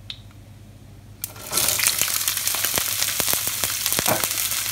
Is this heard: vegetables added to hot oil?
yes